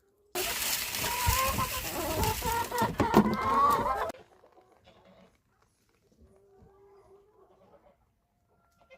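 Loud, dense clucking and squawking of about 50 chickens inside a homestead chicken coop fills the first four seconds, then cuts to near silence outside with faint distant sounds.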